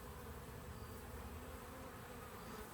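Honeybees buzzing around an open hive during a honey harvest, a faint, steady insect hum with scattered buzzing, distant and continuous with no talking.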